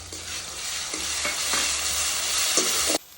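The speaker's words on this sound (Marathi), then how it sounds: "पेस्ट बनवली होती, लसण, अद्रक, हिरवी मिरची आणि कोथिंबीर टाकून ती मस्तपैकी त्याच्यात फ्राय करून घेऊया" A paste of garlic, ginger, green chili and coriander frying in a pan on a wood-fired stove for a mutton curry makes a loud, steady sizzle with a few stirring scrapes, cutting off abruptly near the end with no voices.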